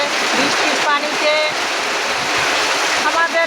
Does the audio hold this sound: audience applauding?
no